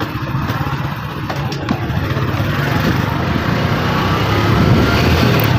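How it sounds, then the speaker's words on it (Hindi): A motorcycle engine runs steadily with a loud low rumble and some clatter, close by and without pause, as a rider readies to set off for a village a few kilometres away. "मोटरसाइकिल हमारी तैयार है, मोटरसाइकिल पर चलते हैं"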